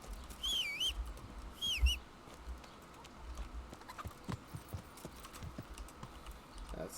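Horse hooves clip-clop at a walking pace in the video game Kingdom Come: Deliverance, quiet and steady, with a few bird chirps at the start.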